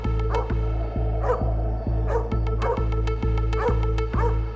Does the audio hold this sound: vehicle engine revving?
no